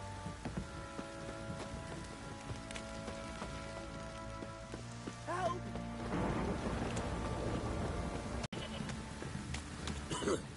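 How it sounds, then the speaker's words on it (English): Heavy rain pours down steadily in The Witcher 3 video game, a dense hiss growing louder partway through, with a faint rumble of thunder and game voices murmuring beneath. "This downpour's a bastard, it is."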